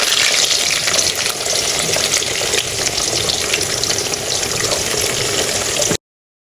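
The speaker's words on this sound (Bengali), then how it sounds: "আলু ছেড়ে দিলাম।" Potatoes frying in hot oil in a kadai for mutton curry, a loud, continuous close-up sizzle and crackle that holds steady for about six seconds before cutting off.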